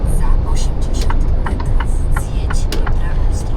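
A truck engine drones steadily while driving out to load sunflower oil bound for Italy, a continuous low rumble with road noise and small clicks over it.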